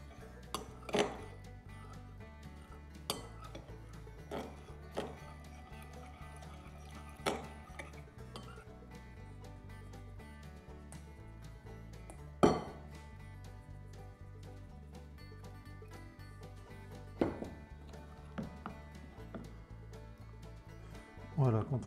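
A spoon clinks and taps against a bowl at irregular intervals, stirring flour a little at a time into Neapolitan pizza dough, with soft background music beneath.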